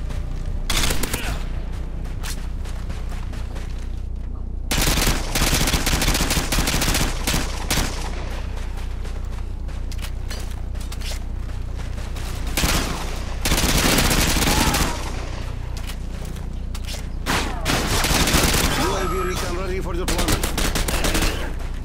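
Light machine gun fire from the video game Modern Warfare 2 comes in repeated loud, dense bursts of rapid shots separated by short pauses, with other game sounds filling the gaps between volleys.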